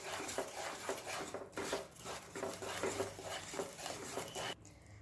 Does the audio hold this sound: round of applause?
no